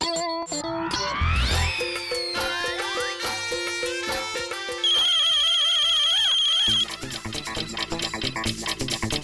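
A phone ringtone plays loudly and continuously as a bright electronic melody with a sustained beeping tone partway through, with no voices over it.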